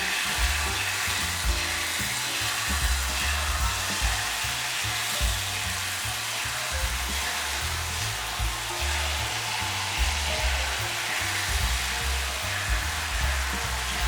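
Angoor boondi batter, made for jalebi and jangiri sweets, sizzles steadily in hot frying oil. The frying hiss is loud and continuous with no voices over it, and a low rhythmic rumble runs underneath.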